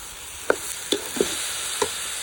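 Rice stirred through hot oil in a pan for a vegetable biryani, four separate scraping knocks spaced about half a second apart over a low steady sizzle, close and fairly quiet, with no talking.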